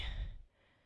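A pregnant woman in her third trimester breathes out during a workout, one soft, close exhale that fades quickly into quiet.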